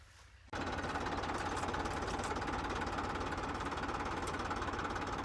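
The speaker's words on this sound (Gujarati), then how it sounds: "આ કોટનું ટ્રેક્ટર છે" A tractor engine runs in a field during castor sowing, starting abruptly after a half-second of quiet and then holding a steady, loud, knocking mechanical drone with no talk.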